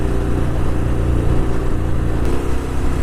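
A 2018 Harley-Davidson Fat Bob motorcycle's big engine rumbles steadily at low revs, loud and close under wind noise, with no voices.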